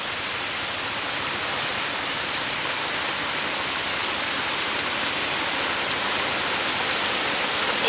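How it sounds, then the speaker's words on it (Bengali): A heavy monsoon rain shower falls outside a village home as dark clouds gather, heard as a loud, even, unbroken roar of rain that holds steady throughout with no talking. "তো একটা ভারী বৃষ্টির পজলা এসেছে।"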